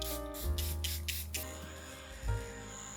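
A Charlotte Tilbury Airbrush Flawless Setting Spray bottle hisses in a few quick, close bursts during a makeup application, then falls quiet apart from faint background hum.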